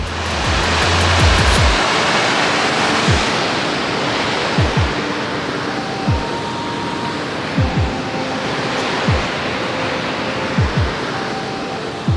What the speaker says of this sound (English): Check this out, we got a waterfall.